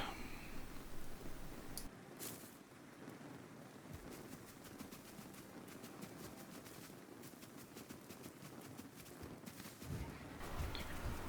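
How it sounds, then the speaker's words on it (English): Steady footsteps crunch along in the Valheim video game, a fast, regular run of fairly loud steps over faint ambient wind and environment noise. "Somewhere in there I heard some quite loud footsteps."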